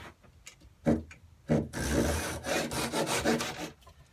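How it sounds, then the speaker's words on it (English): Japanese-style pull saw cutting a wooden dowel on a bench hook, a few short rasping strokes speeding into quick continuous sawing, close and fairly quiet with no talking. "let's just cut on the mark with the new pull saw"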